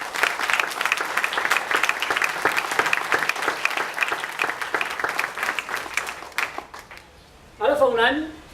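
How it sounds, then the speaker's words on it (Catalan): Audience applauding at a Catalan political speech, dense, loud and sustained clapping that thins out near the end before a voice starts talking. "Per als que vos demani un fort aplaudiment per la seva tasca"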